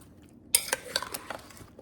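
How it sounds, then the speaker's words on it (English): Brussels sprouts and carrots being stirred into a sliced pot roast meat mixture in a crockpot, giving a quick run of close utensil clinks and scrapes against the pot, sharp at first and then trailing off. "I've got some Brussels sprouts and carrots. I'm adding those to my meat mixture. I'm just gonna give those a little stir."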